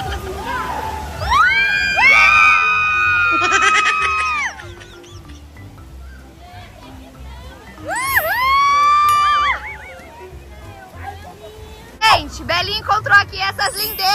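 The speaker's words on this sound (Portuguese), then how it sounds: "Eu tô ouvindo o grito." Children and people scream and shout with excitement on a water park slide, high excited voices rising in bursts of loud yelling amid crowd noise and splashing water.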